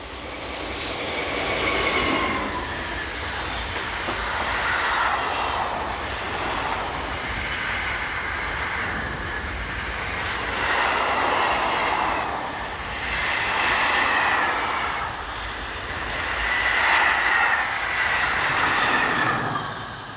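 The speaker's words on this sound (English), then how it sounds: "Heading towards the camera is BB37000 loco number 125 on a container train, seen heading in the Miramas direction." A BB37000 electric locomotive, number 125, hauls a container train past, heading toward Miramas; a steady loud rumble with rhythmic wheel clatter over rail joints swells and fades as the wagons roll by for the full stretch.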